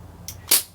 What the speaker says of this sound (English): Once we're done shooting